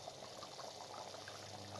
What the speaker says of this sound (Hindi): अब इसके अंदर 2 गिलास पानी शामिल कर दें ताकि दाल अच्छे तरीके से गल जाए।